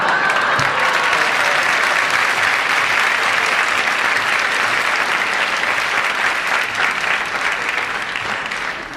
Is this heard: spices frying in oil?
no